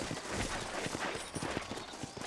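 Horse hooves clip-clop at a steady walking rhythm in the video game Red Dead Redemption, set in New Austin, under a constant wash of background noise.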